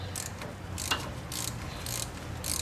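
A ratchet wrench tightens the steering-shaft through bolt into the power steering rack of a Toyota 4Runner, giving several short, quiet clicking bursts over a steady background hum, with no talking.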